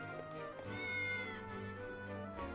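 A cat meows in the video game Triangle Strategy: a drawn-out, tonal mew that stays close and clear over steady game music, with no talking.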